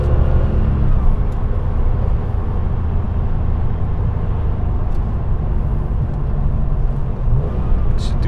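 Cabin sound of a 1998 Porsche 911 Turbo S (993) on the move, its air-cooled engine a loud, continuous low rumble with a few faint clicks, and no one talking.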